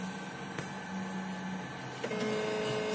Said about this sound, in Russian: Все. Принтер ожил.